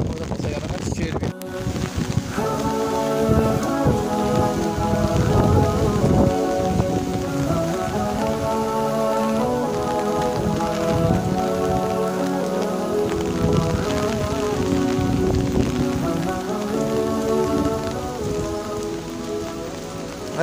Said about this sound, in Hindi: तो कोई बड़ी तेज बारिश लगी हुई है